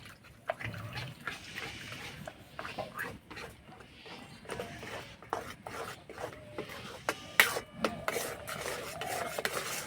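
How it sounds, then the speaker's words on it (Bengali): Semolina stirred into hot salted water in a cooking pot, giving a quiet, uneven scraping and rasping with faint soft clicks, close and low in level, with no voices over it. "এভাবে অল্প অল্প সুজি দেবো নাড়বো"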